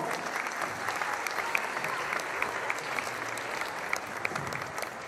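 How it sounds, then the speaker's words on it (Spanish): Loud, dense applause from the crowd at a Huasteco huapango dance contest in Las Joyas, Querétaro, after the third-place couple is announced, a continuous roar of clapping with sharper claps popping through. "¡Fuerte el aplauso!"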